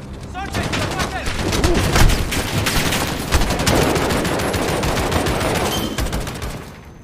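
Heavy, continuous gunfire and overlapping automatic bursts from a modern warfare video game, loud and dense throughout, with in-game voices mixed in before fading at the end.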